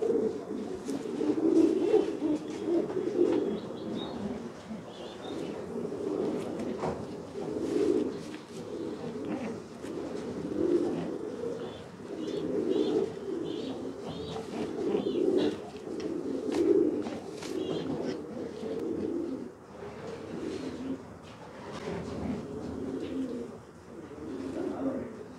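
Homing pigeons kept in a home loft coo in soft, throaty, repeated rolling calls that go on steadily throughout, close by, with occasional quiet voices in the background.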